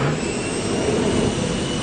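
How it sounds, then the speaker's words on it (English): Jet engines roar on a supercarrier flight deck, a loud, continuous close-up blast of broadband noise with a steady high whine and no voices. "a deafening hurricane of noise generated by whirling propellers, jet engines, and sudden gusts"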